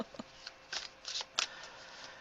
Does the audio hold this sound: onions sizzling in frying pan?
no